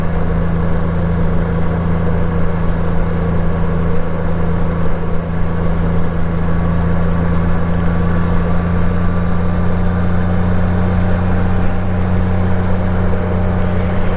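A motorcycle engine idles steadily and loudly for the whole stretch, a constant low rumble with no revving and no talking.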